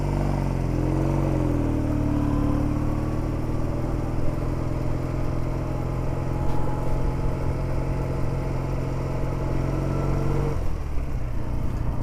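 A BSA 650 A10 motorcycle on a running-in ride through the Cotswolds, its engine droning loud and steady with rising and falling pitch as it changes speed, then a sudden drop in note near the end as the throttle eases.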